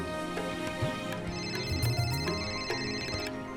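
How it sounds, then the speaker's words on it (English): A telephone rings indoors in repeated tonal bursts, moderately loud over a quiet background, with no talking. "her phone rang again."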